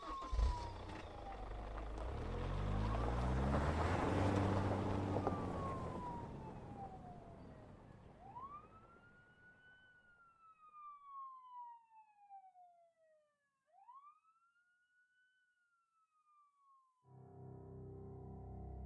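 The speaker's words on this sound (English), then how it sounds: "we heard the sirens of police cars screaming their way up Ventura Boulevard" Police car sirens wail up and down in a radio drama, first under a rumbling, noisy passage, then alone as rising and falling swoops fading into the distance before a new sound cuts in.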